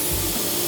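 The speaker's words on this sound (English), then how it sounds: "Typically, I spray sealer at about 25 PSI." A spray gun at full fan sprays sealer at about 25 PSI, a loud, steady, broad hiss that stays continuous for under a second.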